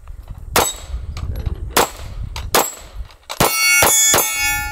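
Suppressed Desert Tech MDRX rifle in 300 Blackout firing at a steel target: muffled shots each followed by a sharp metallic clang, about six hits with a ringing tail on the last ones.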